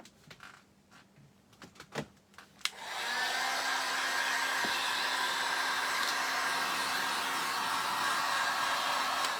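A hair dryer switches on after a few knocks and handling clatter, then blows steadily and loudly at close range, drying fresh paint on a handheld craft piece.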